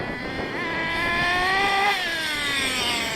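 An engine on the Lightning2 B revs at full throttle, producing a steady loud whine that rises slightly in pitch and then holds for a few seconds.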